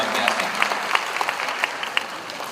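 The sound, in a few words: audience applause for a panel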